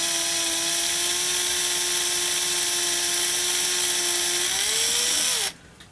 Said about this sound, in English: we're going to ream it out to the outside diameter of the bushing